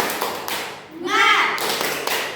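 A primary school class performs a rhythmic spirit clap in a classroom, sharp group claps in a patterned beat broken by a brief chanted word from the children midway.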